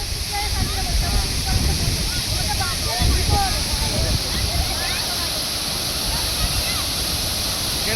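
An ice-cold waterfall at Poladpur roars in a steady, dense rush of falling water, loud and close, with faint voices mixed into the wash.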